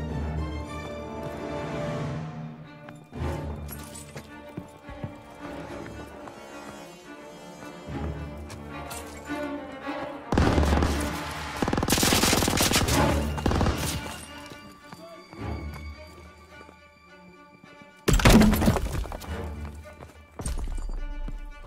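Artillery shells bursting on a World War II battlefield in Call of Duty WWII: two heavy, crashing blast clusters, one long and one short, erupt over a dramatic orchestral score with no talking.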